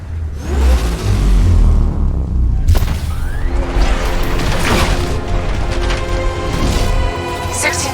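An unmanned tank rumbles forward in Batman: Arkham Knight, a loud continuous engine roar and mechanical whir with a sharp crash near the three-second mark and clattering metal throughout.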